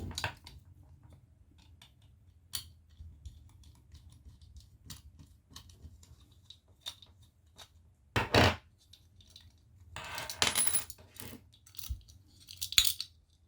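Small screws are being taken out of a hard disk casing, giving faint, scattered metallic clicks and ticks with a few louder clatters against a quiet background.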